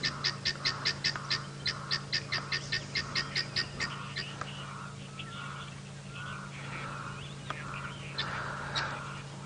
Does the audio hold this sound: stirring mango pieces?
no